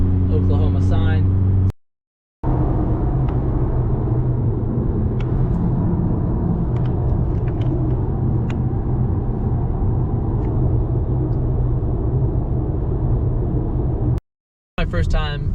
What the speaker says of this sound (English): My first time driving this, first time driving a Mk8 GTI.